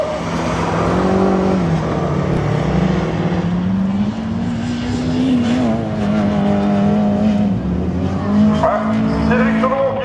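A race car runs a slalom course at Le Neubourg, its engine note loud and close with rising and falling revs, tires squealing through turns while a commentator talks over it.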